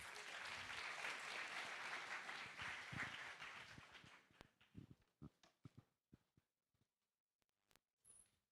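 Loud crowd applause at a hackathon closing ceremony after a demo, sustained for about four seconds, then thinning into scattered individual claps before fading to near silence.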